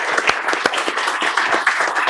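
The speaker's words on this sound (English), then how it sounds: "Give them all another round of applause" An audience applauding a police officer at an armor presentation for the Perry Police Department, loud dense clapping that runs the whole time with a few sharper claps standing out.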